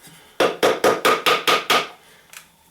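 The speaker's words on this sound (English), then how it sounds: "You could rest this thing down and you could tap it slightly with a hammer." A hammer taps an aluminium Arizona Tea can stove being shaped into a can stove, giving seven sharp, evenly spaced metallic knocks close up, then a fainter final tap after a pause.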